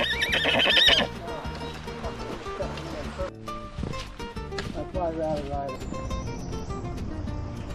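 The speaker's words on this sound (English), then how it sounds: "We got horses on the trail now." Horses on a village trail along the Camino Portugues whinny loudly up close, then hooves clip-clop at a steady walking pace, with music and people talking in the background.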